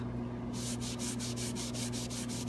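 Furniture paint rubbed off an embossed wooden wall plaque by hand, a rhythmic back-and-forth scrubbing of about a dozen even strokes over a steady low hum, close and moderately loud.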